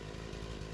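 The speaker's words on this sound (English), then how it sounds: "You can probably hear I got my chainsaw running." A chainsaw runs on a farm, giving a steady buzzing drone that stays at one level, moderately quiet and somewhat distant, with no one talking.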